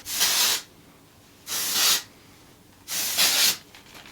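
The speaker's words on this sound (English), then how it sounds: "this is a little bit of my dry texture spray" Dry texture hair spray from Ube is sprayed in three separate bursts of about half a second each, evenly spaced, close and loud, with a bright hiss and quiet gaps between them.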